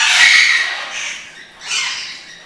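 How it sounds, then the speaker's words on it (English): A Red-lored Amazon parrot lets out loud, harsh squawks close by, a long raspy call followed by two shorter ones after brief pauses, with no talking. "And there's my buddy Paco, Red Lord Amazon."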